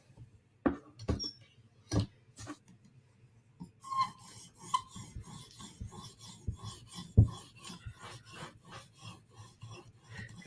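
Koenig knife steel drawn across a fine whetstone, a run of short rasping strokes in a steady back-and-forth rhythm, close and distinct, with a few sharper scrapes and taps between passes.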